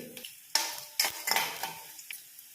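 Chana dal, dried red chillies and thin-sliced garlic drop into hot oil for a carrot and moong dal fry. Sharp bursts of sizzling flare up several times, with light stirring and spoon scrapes between them and no talking.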